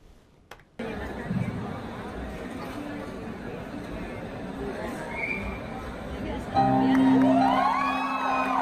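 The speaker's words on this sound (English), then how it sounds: "The crowd goes wild." Concert crowd at a live show cheering and whooping, a steady dense roar that swells louder toward the end as the performer makes her entrance, with music starting up beneath the noise.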